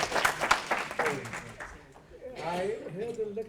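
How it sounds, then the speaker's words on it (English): An audience at a lecture on Zionism bursts into brief applause, a burst of clapping that fades as a voice begins talking over the tail end. "Give him a round of applause."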